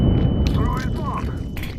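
Counter-Strike 2 grenade blast: a loud, deep rumbling boom that fills the low end and decays with debris rattle, while a person talks over it.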